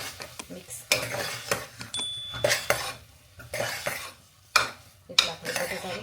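Boiled potatoes being stirred into spice masala in a metal pan, with a spoon repeatedly scraping and clanking against the pan in irregular bursts over a soft sizzle, close and fairly loud, with no talking.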